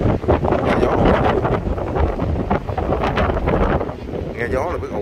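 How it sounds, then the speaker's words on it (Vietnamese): Strong wind roars and buffets the microphone on an exposed hilltop during an off-road trip across Vietnam, a loud, continuous rumble with faint voices partly buried beneath it. "Nghe gió luôn."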